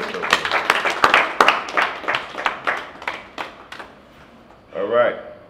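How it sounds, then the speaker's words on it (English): A small crowd at a party claps in a scattered, uneven burst that tapers off over several seconds, followed by a short murmur of voices. "Clap for yourself."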